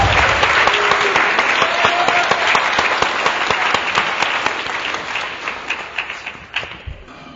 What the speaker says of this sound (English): please join me in another round of applause for our pre-apprentices,